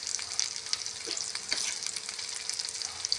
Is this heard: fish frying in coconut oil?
yes